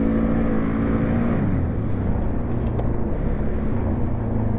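A Polaris Sportsman 570 ATV engine accelerating on cold, slick snow: a steady, close motor drone that holds loud and even throughout.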